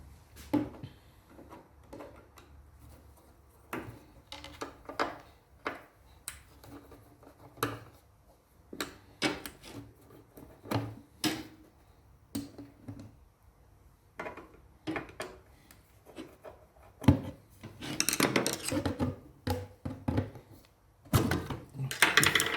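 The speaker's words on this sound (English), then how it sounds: "Give us 2 seconds and I'll show you how you change blade." Blade change on an Axminster AT254SB 10-inch table saw: a run of scattered clicks, knocks and metal-on-wood clunks as parts are handled, close and fairly quiet, with louder rattling bursts toward the end.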